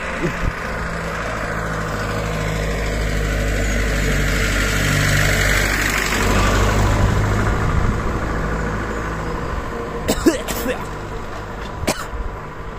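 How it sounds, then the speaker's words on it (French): A diesel tractor engine draws closer outdoors, its low rumble and broad roar swelling to a peak midway and then easing off, with a few sharp knocks near the end. "Attendez, il y a un tracteur qui arrive."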